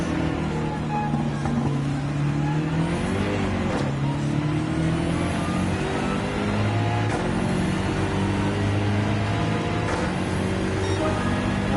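Steady race car engine drone in the video game Gran Turismo 7, with layered harmonic tones rising and falling, plus another car's engine passing close by on the right; continuous, no talking.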